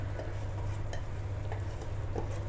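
Besan and ghee batter being stirred into hot sugar syrup for Mysore pak, a steady scraping and sloshing in a pan over a low flame with a faint continuous hum beneath and occasional soft clinks, no talking.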